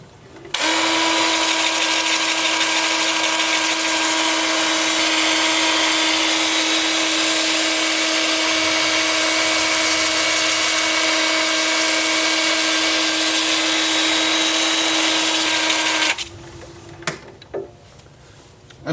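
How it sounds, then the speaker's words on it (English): Wooden bowl spinning on a lathe at 350 rpm in reverse while 80-grit sandpaper is pressed to it, giving a steady loud whirring hum with a constant motor tone that runs unbroken for about fifteen seconds, then winds down to quiet knocks. "I'm starting the sanding with 80 grit, and I'm turning the lathe at 350 in reverse."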